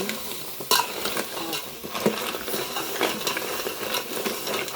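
Crab curry is stir-fried in a pan on a village wood-fired stove, giving continuous loud sizzling with repeated scraping and clanking stirring strokes up close.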